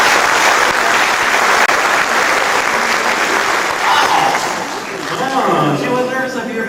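Audience applause fills a Wabash County Chamber of Commerce annual dinner, a loud, steady wash of clapping throughout, with voices talking underneath toward the end.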